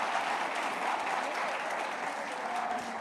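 A church congregation at a Sunday celebration service gives dense, continuous applause, a steady wash of many hands clapping at once with no voices standing out.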